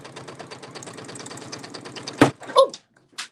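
A home sewing machine stitching fabric with a fast, steady mechanical whir of needle strokes that runs for about two seconds, then stops with a few sharp clunks and clicks.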